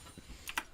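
A few quick keystrokes on a computer keyboard, two sharp clicks close together standing out faintly over a quiet background, during a League of Legends esports broadcast.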